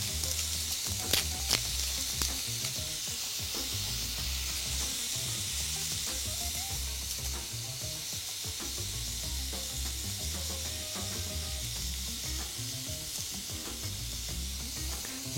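Onion and garlic frying in a pan make a steady, close sizzle with faint stirring scrapes, continuous and even throughout without talk.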